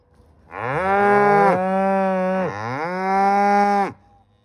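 A cow moos loudly and close during loading, three long drawn-out calls in a row with slight dips between them, alone with no voices.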